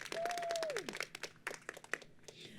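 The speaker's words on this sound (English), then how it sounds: "Can we give a round of applause to this program that's here today" A small crowd at an adaptive living expo claps in scattered, uneven bursts that thin out toward the end, fairly quiet, with a brief whistle near the start.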